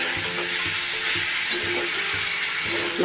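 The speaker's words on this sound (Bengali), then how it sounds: "এবার আমি ভেজে রাখা আলুগুলো দিয়ে দেবো। ভালো করে মিশিয়ে নিলাম।" Fried potatoes stirred into a pan of frying Bombay duck (lote fish) and eggplant: a loud, constant sizzle with soft rhythmic stirring scrapes underneath.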